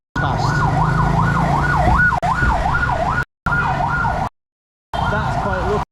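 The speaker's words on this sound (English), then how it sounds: "When you enter Hanoi and you see ambulances past." An ambulance siren wails in Hanoi city traffic, a loud, close, steady up-and-down yelp over a rumble of vehicles. It cuts out briefly twice and then resumes as the ambulance pushes through.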